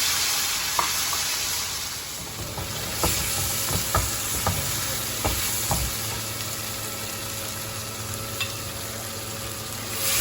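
Chicken sizzles and fries in a pan right after lemon juice goes in, a continuous close hiss broken by several sharp stirring clicks and scrapes.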